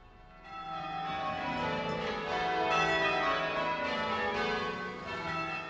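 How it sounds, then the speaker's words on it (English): Church bells ring out in celebration of victory, a dense overlapping peal of several bells that swells and sustains clearly with no voices present. "church bells rang out across the land to celebrate victory"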